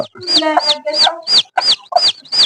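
A broody hen clucks repeatedly at close range, a rhythmic run of short throaty clucks with a rising squawk at the end of each.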